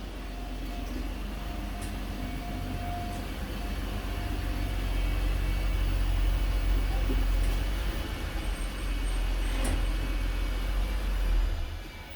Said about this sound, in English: So let's get the A7 into the garage and get these coilovers installed.